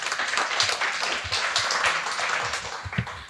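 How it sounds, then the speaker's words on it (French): A conference audience applauds after a talk on home energy renovation and renewable energy, with dense, steady clapping from a crowd for a few seconds before the next speaker. "On peut applaudir."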